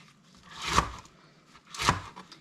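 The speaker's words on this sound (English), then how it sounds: "So I'm going to just go through all of these and slice them this same thickness." A kitchen knife slices through peppers on a cutting board for cowboy candy, two distinct crisp cuts about a second apart, close up in an otherwise quiet room.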